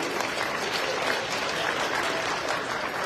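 A seated crowd at a foundation gathering in Atlantic City breaks into sustained applause, a continuous wash of many clapping hands, steady in loudness for the whole stretch, with no speech over it.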